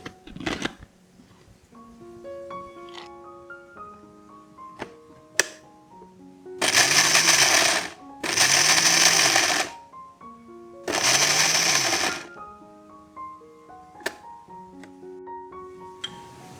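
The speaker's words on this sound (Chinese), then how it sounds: "花生倒入研磨机里，搅打至碎状" A kitchen grinder pulverizes peanuts in three loud, steady whirring bursts of a couple of seconds each, separated by quieter pauses with light clicks and soft music.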